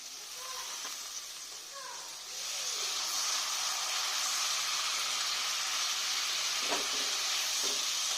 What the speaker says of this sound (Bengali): এবার আমি একটু সামান্য জল দিলাম।